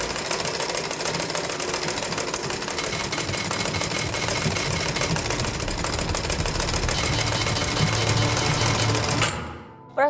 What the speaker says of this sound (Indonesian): ini suaranya, suara mesin jahitnya